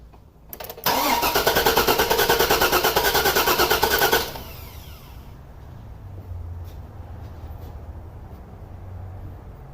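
A 2004 Chevrolet Suburban with a 6.0L engine cranks with a loud, rapid starter whir for about three seconds, then stops, leaving a quiet low rumble and faint background noise.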